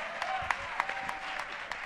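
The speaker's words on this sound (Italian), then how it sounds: "un applauso" Applause from the audience at the Sanremo Festival as the winner of its seventieth edition is announced, moderate and steady with scattered louder claps, while a quiet voice carries on faintly underneath.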